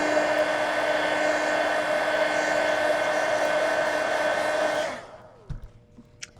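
Steady whirring hum of a hair dryer drying paint in an adult colouring sketchbook, running close and even before cutting off near the end, followed by a few faint handling taps.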